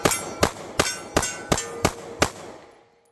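Seven sharp metallic clangs ring out at a steady, quick pace as Ruger Max-9 pistol rounds strike a steel plate target, each impact loud and close with a brief ringing decay before the next.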